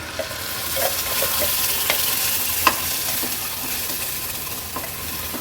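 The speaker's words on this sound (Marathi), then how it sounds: "वाटण असं व्यवस्थित आपल्याला शिजवून घ्यायचं आहे थोडं तेलावर।" Ground Malvani masala paste fries in oil in a pan for a Konkani mackerel curry, giving a steady close sizzle with occasional light spoon scrapes and taps as it is stirred.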